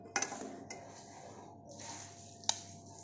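A spoon works through cooked aloo bukhara (plum) chutney in a pot, squishing the soft fruit and scraping the metal with a couple of sharp clinks, close and fairly quiet.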